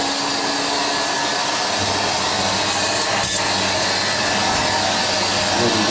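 A vacuum cleaner roars loud and continuous at close range, with an Indesit IS60V tumble dryer drying a load of towels on program 1 humming underneath.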